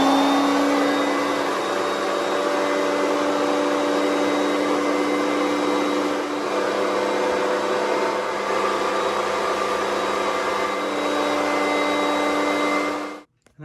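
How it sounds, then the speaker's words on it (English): Hoover Concept One vacuum cleaner running with a reducer attachment while vacuuming a chair, a loud steady whirring drone that holds for about thirteen seconds before cutting off abruptly. "Now I will vacuum this chair a bit."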